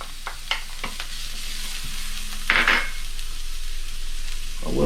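Garlic drops into a hot pan for low-carb shrimp scampi and sizzles steadily, with a spoon stirring and scraping against the pan partway through. No voices are heard over the close, continuous frying.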